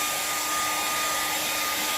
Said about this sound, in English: I'm going to grab my trusty dusty hairdryer